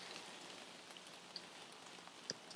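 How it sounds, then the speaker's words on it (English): Steady soft rain falls through woodland, a continuous gentle patter with a few sharper drips standing out, quiet and with no voices. "Hear the rain?"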